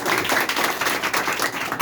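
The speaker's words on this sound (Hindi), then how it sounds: "गुरु जी के लिए ताली बजाइए आप सभी" A crowd claps for a guru at a Hindi-language gathering, a dense, steady wash of many hands sustained for nearly two seconds at even loudness.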